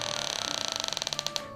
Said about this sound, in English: First, there was a creak